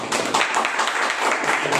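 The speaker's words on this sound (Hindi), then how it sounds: "हम लोग परमेश्वर के लिए जोरदार तालियां दें।" An audience at a New Year's Eve church celebration claps steadily, a dense wash of many hands filling the room with no voices over it.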